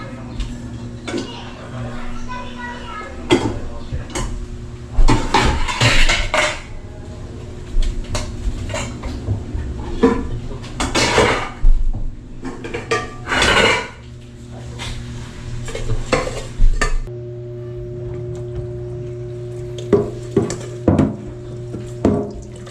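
Small cooking pot and utensils being handled, with sharp metallic clanks and clatters spaced irregularly through the clip under a steady low hum, while people talk nearby.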